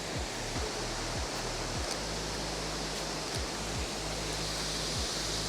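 A waterfall roars as a broad, steady rushing hiss, loud and unbroken, with a faint low rhythmic hum beneath it.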